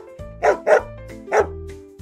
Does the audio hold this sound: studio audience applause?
no